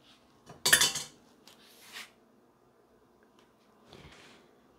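A spoon clinks against a cup while honey is stirred into a drink: one bright, loud clatter, then a few softer scrapes and taps with quiet gaps between them.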